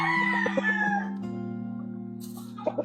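A gamefowl brood stag rooster crows once, close and clear, the drawn-out call fading into a quieter tail with a few soft background clucks.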